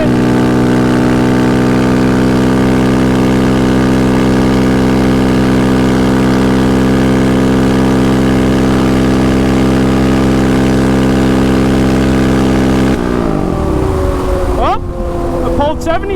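A vehicle engine runs at full throttle in fifth gear as a loud, steady, droning tone that holds constant, then shifts and eases near the end.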